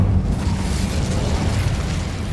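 Incendio fire spell cast in Hogwarts Legacy, a loud, dense whooshing burst of flame that roars continuously for a couple of seconds at close range.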